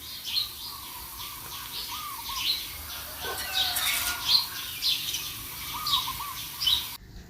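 Birds chirp and sing repeatedly in short bright phrases, fairly near, with a faint rustle in the background and no talking.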